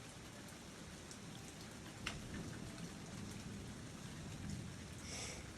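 Heavy rain just after hail pours down outside a front porch, a dense, steady roar with a few sharper drips and splashes standing out, with no voices.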